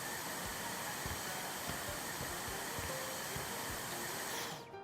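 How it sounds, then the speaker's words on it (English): A vacuum cleaner in House Flipper 2 runs with a steady, loud broadband whoosh for several seconds before it cuts off at the end. "Vacuum this."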